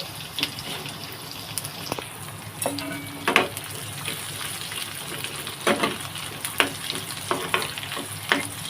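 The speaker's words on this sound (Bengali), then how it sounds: "রসুন পেঁয়াজটাকে আমি ব্রাউন কালার করে একদমই ভেজে নিব" Chopped garlic and onion fry in hot oil for a lentil dish with green mango, giving a steady close sizzle with scattered scrapes and clicks of a stirring spoon.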